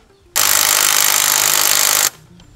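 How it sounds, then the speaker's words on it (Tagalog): An impact wrench hammers loudly and steadily for close to two seconds while loosening a 27 mm sprocket nut on a ZX4RR motorcycle. It starts and stops abruptly, and the room is quiet before and after. "Kailangan nyo ng impact wrench dyan."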